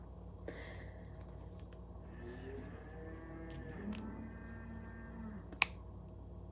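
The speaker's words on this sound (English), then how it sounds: "Oh, these cows." Longhorn cattle give a drawn-out moo in the middle of an otherwise quiet outdoor scene, fairly distant and soft. A sharp click follows shortly after.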